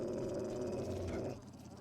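Dogs in the survival video game 7 Days to Die give a brief, steady growling snarl that drops away abruptly near the end.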